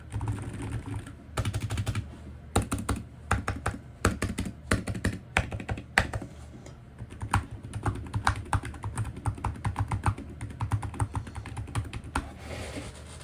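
Rapid clacky keystrokes on a purple computer keyboard come in irregular bursts with short pauses, close and alone with no talking.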